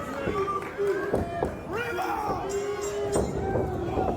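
An indie wrestling crowd cheers and yells as a jester-styled wrestler riles them up, a dense roar of shouts and whoops with individual voices calling out sustained notes, loud and continuous.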